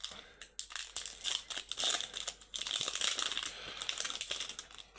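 Crinkling foil wrapper of a Pokémon trading card booster pack being torn and worked open, a steady close-up rustle and crackle with sharp bursts, continuing for several seconds without talk.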